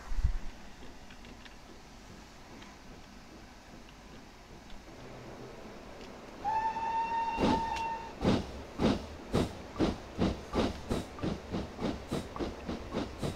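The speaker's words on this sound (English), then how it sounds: "There's another chugger pulling away somewhere." Steam locomotive pulling away in Train Simulator 2018 on the Midland Mainline or East Coast Mainline: a steady hiss, a whistle-like tone, then rhythmic exhaust chuffs that start slow and quicken, moderately near.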